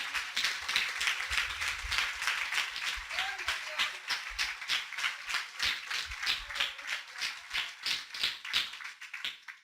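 A church congregation claps in applause during a Spanish-language sermon, a dense run of rhythmic hand claps that gradually settles into a steadier beat and thins out at the end, with some voices faintly underneath.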